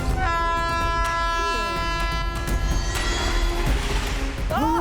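A train rolls past in a Hindi-dubbed South Indian action film, its horn blaring in long sustained tones over a steady loud rumble for several seconds, with voices and rising whistle-like tones near the end.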